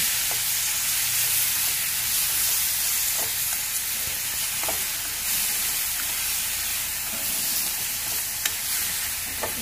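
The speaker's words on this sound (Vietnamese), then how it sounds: "Nấm các bạn cho vô trước nha, để chúng ta xào nấm sơ cho nó chín nha các bạn" Oyster mushrooms stir-fry in a hot pan with a continuous bright sizzle and hiss, while occasional soft scrapes of a spatula stirring punctuate the steady frying.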